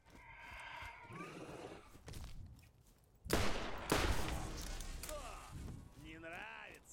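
Gunfire in the Borderlands video game comes in loud bursts of rapid shots, with quieter game sounds and a voice between them.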